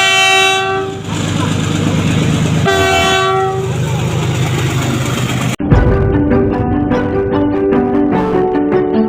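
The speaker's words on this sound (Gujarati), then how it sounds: "રેલવે ફાટક બંધ થઈ ગયો છે. તો હવે રેલવે આવી રહી છે" A train rolls past a closed railway crossing near a fair in Dhanakvada, with a loud steady rumble and rattling wagons, then a long, loud horn blast sounding close by.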